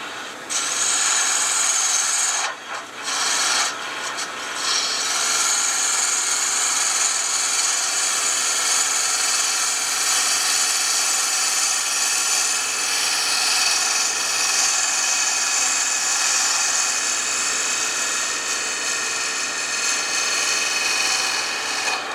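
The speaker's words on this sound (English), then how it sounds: "if you take that scraper and you roll it up on that shoulder, we're talking carbide tools here" A carbide scraper cuts wood on a lathe, a steady bright hissing rasp that runs nearly unbroken for over twenty seconds, briefly interrupted early on, close and fairly loud with no talk.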